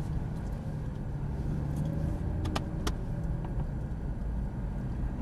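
Porsche Cayman S engine running steadily as the car taxis out at a track, a continuous low rumble with a few brief sharp clicks, no talk.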